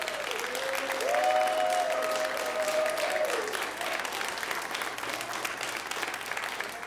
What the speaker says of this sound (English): If you could stand so we could give you a big round of applause